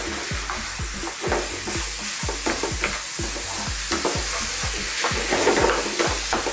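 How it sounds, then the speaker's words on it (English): Minced beef and potatoes for an aloo keema curry fry in a pan, a steady loud sizzle broken by a regular rhythm of spoon scrapes while being stirred, close with no talking. "We're going to mix in our beef with our potatoes."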